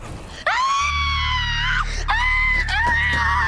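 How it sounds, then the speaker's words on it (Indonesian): A woman screams hysterically in a film, two long loud shrieks with a brief break between them, harsh and close, over a low rumbling background. "tiba-tiba Jane berteriak histeris"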